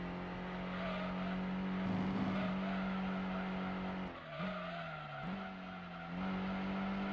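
A race car in a racing video game holds a steady engine drone, then its tires squeal and skid through a corner with dips in pitch before the engine note settles again, with no talking.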